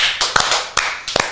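A few sharp, separate hand claps ring out close by in an irregular rhythm, about four distinct hits over a second or so.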